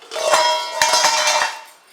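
A plate and dishes clatter in a home kitchen, several sharp clinks and knocks of tableware close by over about two seconds.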